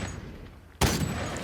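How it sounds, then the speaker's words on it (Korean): A single sharp, loud gunshot cuts in abruptly after a quieter stretch of background noise, then a sustained noisy roar follows. "총소리가."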